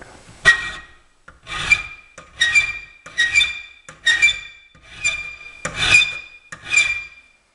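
Metal being filed by hand gives a series of about eight distinct rasping strokes, close and clear, each a short scraping pass with brief gaps between, and no talk.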